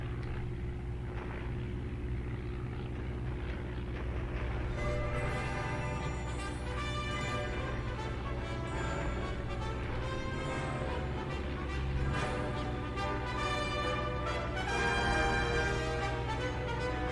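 Engines of World War I bomber aircraft in a flight video game make a continuous low droning rumble that holds steady throughout and carries no speech.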